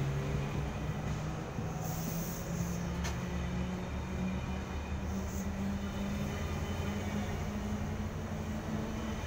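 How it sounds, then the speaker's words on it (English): Four-car commuter train bound for Carlingford pulling away from a platform at Rosehill station in Sydney, a steady low rumble with rising motor tones and faint wheel squeal, moderately distant and fairly quiet throughout. "Here departing from platform number 2, we have a 4-car asset bound for Carlingford."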